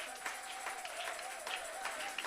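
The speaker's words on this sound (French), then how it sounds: "Donnons une acclamation." Scattered clapping from a church congregation, steady and moderately loud across the whole stretch, with a faint tone running underneath.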